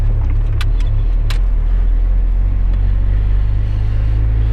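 A GAZelle van with a burnt-out muffler pulls away in city traffic, its steady low engine rumble filling the whole stretch, close and continuous, with a few brief higher clicks early on and no talk.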